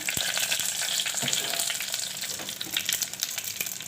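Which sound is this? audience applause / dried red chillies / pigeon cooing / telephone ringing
dried red chillies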